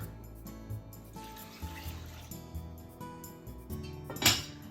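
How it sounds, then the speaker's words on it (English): Water is poured onto two cups of rice in a pot in a kitchen, a soft, steady trickle and splash lasting a few seconds, heard close and quiet. "It's 2 cups of rice, so let's add 2 cups of water."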